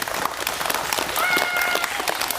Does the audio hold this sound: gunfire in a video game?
no